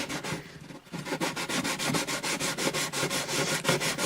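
Rapid, even back-and-forth rasping of sandpaper on a dot inlay set into an Alvarez Artist AD65 acoustic guitar bridge, close and steady after a brief pause near the start, with no voices.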